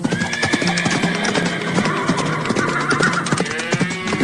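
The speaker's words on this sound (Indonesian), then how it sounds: "Oh tidak, kuda-kudanya malah berlarian kencang, debunya sampai berterbangan kemana-mana." Horses in a 3D animated farm scene neighing loudly over busy galloping hoofbeats, several whinnies overlapping the steady clip-clop, close and continuous with no talk.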